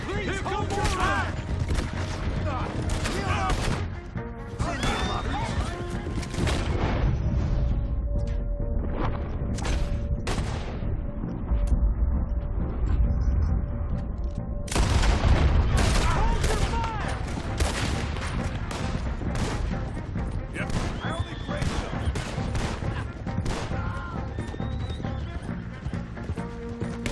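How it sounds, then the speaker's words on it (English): Gunfire in Red Dead Redemption 2, a dense run of sharp shots crackling throughout, some close and loud, with hoofbeats and people talking mixed in. "They're shooting at you."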